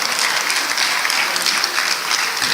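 A loud, dense round of applause from an audience after a student performance at an event, steady and unbroken throughout with no speech.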